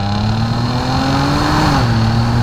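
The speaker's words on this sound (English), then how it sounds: "We're going to try a small pull just to see where this throttle input is, because it is a supercharger" A supercharged Jaguar XJ R Sport engine pulls steadily under throttle, a smooth rising drone heard from inside the car, loud and continuous with no talking.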